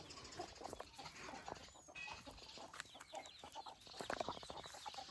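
Chickens and chicks cluck and chatter repeatedly amid a busy farmyard background, with scattered bird calls close by.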